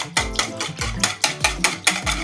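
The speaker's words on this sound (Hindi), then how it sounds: "अब हम इसको अच्छी तरह मिक्स करेंगे," An egg and milk mixture is stirred briskly in a bowl in a home kitchen, giving about seven steady, evenly spaced scraping strokes with soft low knocks, close and clear, with no talking.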